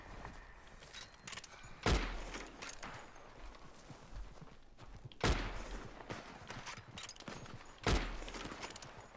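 Three sharp gunshots ring out at spaced intervals in Red Dead Redemption 2 online play, each a sudden loud crack with a brief tail, over a low bed of hoof clatter and ambient game noise.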